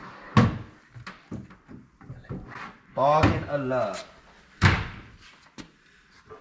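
Doors of a pine wardrobe in a furniture shop are opened and shut with several wooden knocks and a couple of louder slams, one long creaking swing in the middle, and someone speaking briefly between them.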